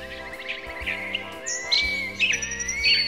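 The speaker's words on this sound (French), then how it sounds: "Et les petits oiseaux qui piaillent." Small birds chirp and tweet in quick, overlapping bursts, bright and fairly close, with no talking.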